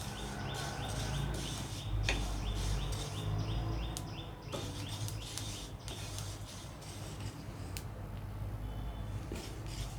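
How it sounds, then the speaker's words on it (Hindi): Dense, irregular crackling and popping of sesame seeds roasting in a hot pan, continuous and close, with scattered sharper snaps. "तिल भी भुन गए हैं और हल्की हल्की चटचट की आवाज़ आने लगी है"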